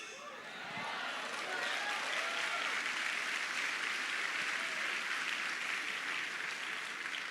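A crowd at a live event breaks into sustained applause just after a voice trails off, loud and dense clapping that holds steady to the end.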